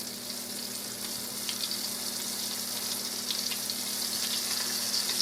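Cube steaks fry in a pan over medium-high heat, giving a loud, steady, close hiss and crackle with occasional brighter pops throughout, no voices.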